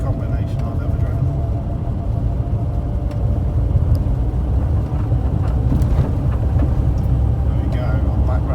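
A 42-year-old Austin Allegro drives along, its engine and road noise forming a steady, loud rumble from inside the car with no pauses.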